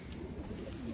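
Domestic pigeons in a loft give a low, soft cooing, brief and fairly faint against a background murmur.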